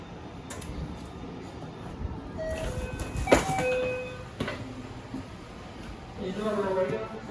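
Sunrise Izumo sleeper train waiting at a station platform on the Okayama to Tokyo route: steady rail and platform hum with brief electronic tones and clunks, and muffled announcement voices over the ambience.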